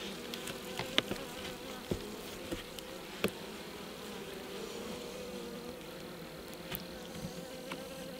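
Steady droning buzz of many honeybees close by at an apiary, with occasional sharper buzzes as individual bees pass near.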